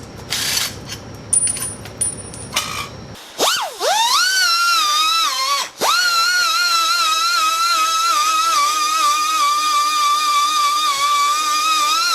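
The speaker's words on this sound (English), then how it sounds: "So I'm gonna have to get a Dremel and port this out and knife edge these two ports." A Dremel rotary tool ports and knife-edges the intake ports of a turbocharged 670cc offroad buggy engine. It spins up with a sharp rising whine, then holds a loud, steady high-pitched grinding drone after a brief handling noise.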